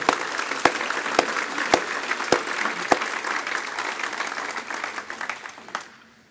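An audience applauds the airport board at a State of the City address: sustained crowd clapping with several loud, close individual claps early on, then the applause gradually tapers and dies away.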